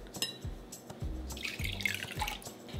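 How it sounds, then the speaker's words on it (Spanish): Cold water being poured into a bowl of eggs in a kitchen, a quick splashing and trickling pour with a few drips, close and clear, with no talking. "Dos tercios de taza de agua fría."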